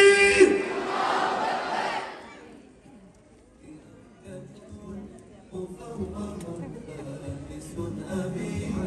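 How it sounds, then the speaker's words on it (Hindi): A crowd at a youth club event in Islamabad shouts a loud takbir response in unison, a burst of massed voices in the opening two seconds before the noise drops to quieter murmuring and chatter. "आप लोगों की तकबीरात के साथ ज़िया भाई को ऑन स्टेज बुलाते हैं।"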